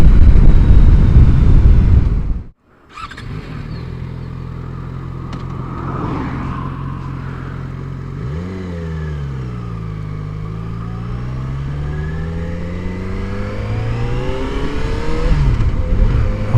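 Yamaha XJ6F motorcycle riding at 50 mph with its fairing fitted: a steady, loud engine drone with wind roar throughout, broken by a brief dropout near the start, with engine pitch rising and falling later as the throttle shifts.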